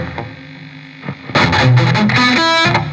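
Electric guitar played through the overdrive channel of a Victory MK Overdrive amp, a few quiet picked notes giving way to loud, sustained distorted chords and ringing lines that fill the rest of the passage.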